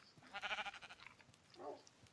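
Sheep bleating in a video game, one close quavering bleat followed by a shorter, lower bleat, with no talking.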